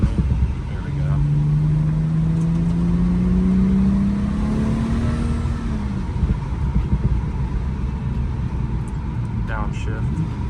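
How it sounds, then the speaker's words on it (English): A tuned BMW X1 xDrive35i M-Sport engine blips its revs during a rev-matched downshift while driving, a rising tone swelling over steady road and cabin noise for several seconds before settling back. "Those kind of rev match downshifts are part of my transmission tune that I'm running."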